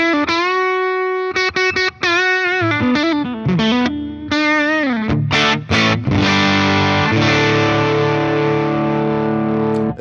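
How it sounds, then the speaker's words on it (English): Electric guitar through a boost overdrive on a Fender Tone Master Pro modeled Twin amp, a loud gritty lead line of bent notes and slides that ends in sustained distorted chords, played alone. "that's definitely not your typical overdrive sound that you would get from any other overdrive"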